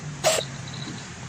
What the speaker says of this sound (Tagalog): Ba't inuubo ka?